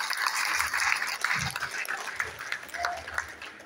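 Audience applause at a seminar, a steady patter of clapping from a crowd in a room, fairly close and moderate in level.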